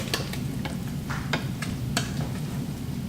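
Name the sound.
stirring scallop risotto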